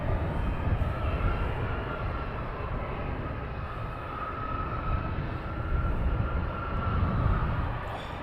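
An airliner taxis at Luton Airport with a loud, steady engine roar and broad rumble that swells slightly and stays constant throughout, with no voices.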